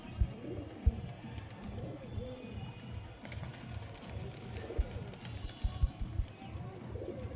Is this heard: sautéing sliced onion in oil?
no